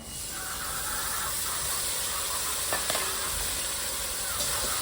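Chopped onions and onion paste fry in hot oil with whole spices for a fish curry, giving a loud, steady, close sizzle throughout with a couple of faint clinks.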